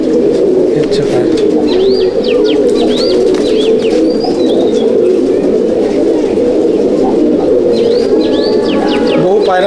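Pigeons in a loft coo steadily in a loud, close, continuous chorus, with sharper chirps and calls breaking through now and then.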